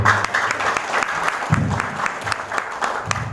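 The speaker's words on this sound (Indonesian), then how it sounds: "Beri aplaus yang meriah buat Bapak Adi Ibu." An indoor crowd at a business opportunity presentation in Indonesia claps in a burst of warm, dense applause, close and lively, lasting the full few seconds.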